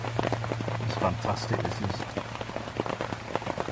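Pouring rain drums on a Dutch army canvas tent in Wales, a dense steady patter of close drops with a low hum beneath, while someone talks over it.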